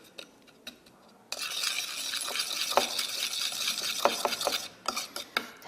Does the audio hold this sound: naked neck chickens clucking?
no